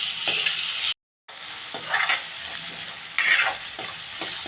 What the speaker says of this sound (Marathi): कांदा टमाटो छान तळूया